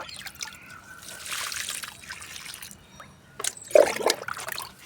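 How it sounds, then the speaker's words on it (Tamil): Water pours and trickles onto potted garden plants such as a lemon plant, with steady splashing, brief pauses and a louder splatter near the end. "இப்போ இதுக்கு தண்ணி ஊற்றுங்க."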